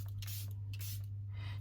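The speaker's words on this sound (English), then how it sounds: "So this is the Charlotte Tilbury finishing spray." Charlotte Tilbury setting spray misted in quick short bursts, several separate hissing puffs close by over a steady low electrical hum.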